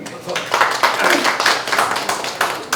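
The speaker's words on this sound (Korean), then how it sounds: "큰 박수 부탁드립니다." An audience claps at the opening ceremony of the Yongbong free meal center in Daejeon, a dense patter of hands that rises and swells steadily, with a voice heard over the clapping.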